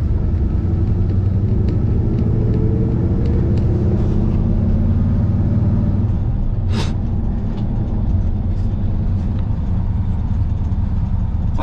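A lifted Squarebody Chevy truck drives along with a steady, loud low engine and road rumble filling the cab, joined by one sharp brief hiss or squeal partway through.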